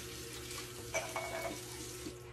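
Used cookware being washed under running water at a kitchen sink, a steady close hiss of the tap with a few clinks and splashes near the middle, no voices.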